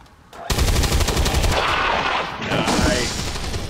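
A soldier fires in XCOM 2: after a quiet start, a loud burst of rapid automatic gunfire erupts close by, then rolls into sustained rattling and echoing impacts that fade slightly toward the end.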